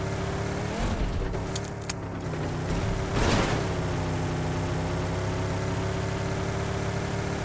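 A car engine drones steadily in PUBG Mobile as the vehicle drives along, with a brief louder surge partway through, up close and alone without talk.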